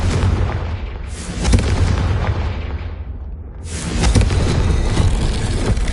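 Confringo spell explosions in the video game Hogwarts Legacy on PS5, loud booming blasts with rumbling low-end bursts, one after another over a continuous roar, no talking.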